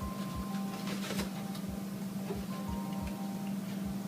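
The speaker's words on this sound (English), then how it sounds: "Now we're going to whisk these 3 together in the bowl." Milk and sweetened condensed milk whisked together in a bowl for a tres leches cake: a steady run of quick, soft ticking whisk strokes over a constant low hum, with no voices.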